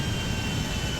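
Airplane engine roaring during takeoff in a flight simulator game, a brief, steady, dense jet-like rumble with a bright whine on top, with no talking.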